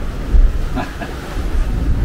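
Strong wind buffets a sailboat crossing the Strait of Gibraltar, a steady low rumble of gusts against the microphone with surging swells, loud and continuous throughout.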